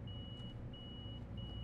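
Door warning tones of an MTA train in Train Sim World 4: three long, even electronic beeps with short gaps, sounding over a steady low rumble of the idling train.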